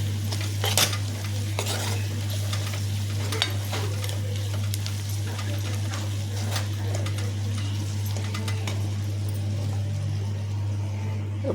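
Vegetables fry in a curry-leaf tempering, a continuous close sizzle with frequent stirring scrapes and utensil clinks over a constant low hum.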